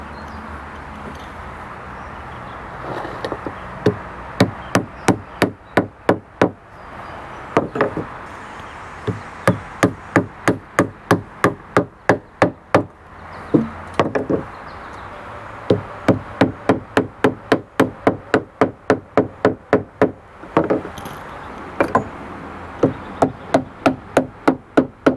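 Wooden bungs being hammered into a boat's stern toerail: sharp, close knocks arrive in quick rhythmic runs of several blows, separated by short pauses, carrying on through the whole stretch with no one talking.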